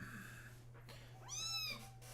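A cat meows once, fairly close and clear, over a steady low electrical hum in a quiet indoor room.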